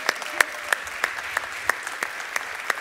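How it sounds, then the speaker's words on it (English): Church congregation applauding new members at a Crossroads UMC service in Ashburn, heard as a steady wash of clapping with sharper individual claps standing out at regular intervals throughout. "You can really, really clap for them now."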